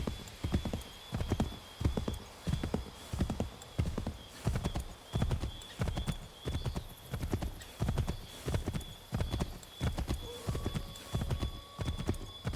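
Horses galloping in Assassin's Creed III, a rapid, steady clip-clop of hooves running throughout, loud and close, with a brief whinny near the end.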